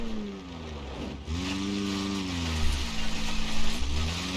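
A worn dirt-track race car in BeamNG.drive, its engine torque reduced, revs up in rising sweeps that sag and struggle as it bogs down, repeating several times with a rough, uneven note and no talk.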